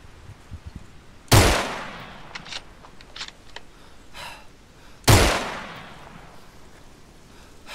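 Two loud, sharp gunshots in the Arma 3 military shooter, spaced about four seconds apart, each with a long decaying echo, with faint clicks and handling noises in between.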